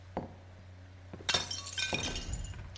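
A mug strikes and shatters against a glass pane in the video game Estranged: a few light knocks, then a loud bright burst of breaking glass with tinkling shards trailing off, heard up close with no talk.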